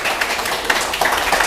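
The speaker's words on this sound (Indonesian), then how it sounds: "tepuk tangan yang meriah untuk kita semuanya" Applause from a live audience at an evening stage show in Banyuwangi, a dense, steady patter of many hands clapping, fairly loud and even for the whole stretch with no talking.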